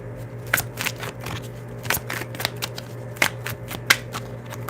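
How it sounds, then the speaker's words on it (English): Tarot cards shuffled by hand in short, crisp riffling bursts repeated every second or so, close and fairly quiet over a steady low hum. "I'm shuffling."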